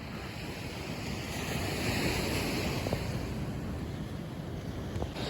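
Morning sea waves at Varkala beach wash in a continuous, close roar of surf, with wind rumbling against the microphone and no voices.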